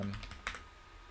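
A few quick keystrokes on a computer keyboard, soft clicks close by in a brief burst, then quiet.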